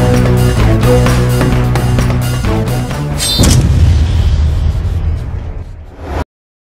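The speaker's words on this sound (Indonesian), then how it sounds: "Pak Ares, terjadi kebakaran dan ledakan di dalam, Pak." A loud explosion bursts inside a building after music, followed by a sustained roaring blast and crackle of fire that slowly fades before cutting off.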